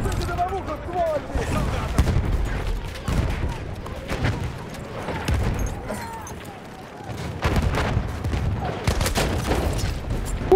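Shotgun blasts and surrounding battle fire in Battlefield 1, several heavy booming shots spread across the stretch amid dense combat noise, with voices talking over the fighting.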